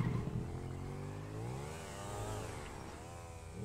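A motorcycle engine in a racing video game revs and drones steadily, its pitch rising and falling in smooth sweeps, loud and close throughout with no voices over it.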